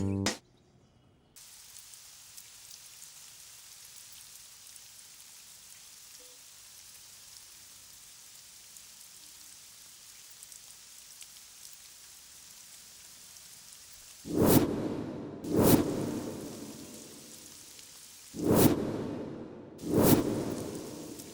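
Steady rain falls softly and continuously, then four loud, sharp crashes of thunder break through in the latter half, each decaying into the ongoing downpour with no voices.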